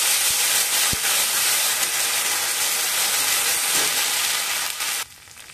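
Ginger garlic paste frying in hot oil alongside whole cardamom, cinnamon and cloves gives a steady, loud broadband sizzle and hiss that holds evenly for about five seconds, then suddenly drops to a much quieter, softer sizzle.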